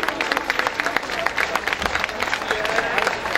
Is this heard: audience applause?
yes